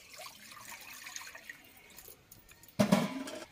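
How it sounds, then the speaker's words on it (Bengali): Water is poured into a wok while cooking Bengali dried fish, heard as a sudden close splashing gush after a few seconds of faint background noise. "কড়াইতে জল দিয়ে দিলাম"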